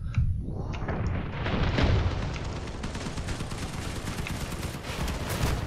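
Heavy gunfire in the post-apocalyptic vehicle combat game Crossout, aimed at enemy wheels, a dense stream of rapid shots and booming impacts that keeps going loud from start to finish.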